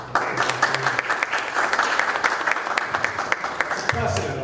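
Audience applause at a municipal planning meeting on resident engagement: steady, dense clapping from a roomful of people, continuous throughout with scattered sharper claps standing out.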